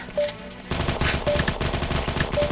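Rapid automatic fire from a gun in the mobile shooter Combat Master, a steady loud stream of shots with short gaps, firing alone without talk.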